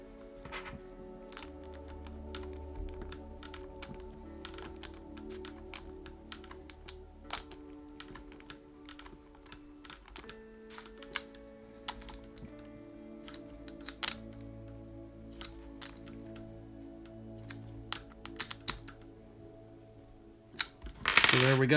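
Wheel being tightened onto a Tamiya BB-01 RC car chassis: a quiet run of small clicks, taps and ratcheting ticks close by, scattered irregularly over a faint background hum, with a louder clatter at the very end.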